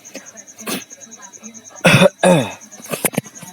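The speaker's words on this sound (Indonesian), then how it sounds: "ini sedikit batuk karena saat ini saya sedang pilek" Several coughs break out between bits of talk, two strong harsh ones in the middle followed by smaller throat sounds.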